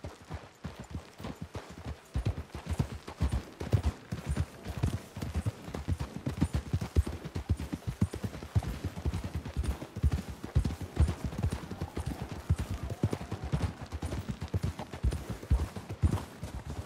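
Horses gallop in the Red Dead Redemption 2 video game, their hooves beating in a fast, continuous clip-clop rhythm close up. The steady hoofbeats run for the whole stretch with no speech.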